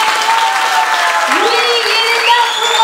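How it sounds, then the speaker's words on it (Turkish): Audience applause at a speech event in Turkey: a steady, loud wash of clapping fills the whole stretch, with a rising whistle-like tone and voices mixed into the crowd noise. "alkış istiyorum."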